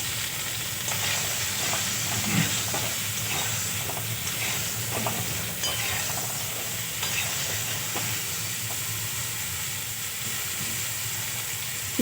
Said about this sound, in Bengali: হলুদ দিয়ে ভালো করে ফুলকপিগুলো ভেজে নেব।